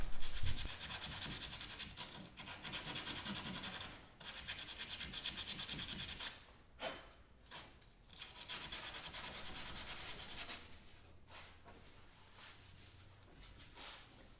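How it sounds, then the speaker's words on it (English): Continuous rough sanding strokes against a kit car body panel, rhythmic back-and-forth rubbing with a few brief pauses, close and fairly loud. "I just finished sanding everything down"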